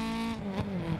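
Rally car engine in DiRT Rally 2.0 on the Ribadelles, Spain stage, droning steadily at high revs with a slight dip and surge, loud and close throughout the brief moment.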